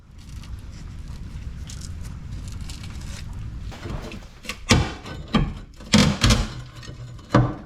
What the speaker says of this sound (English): that sound is the unibody shedding layers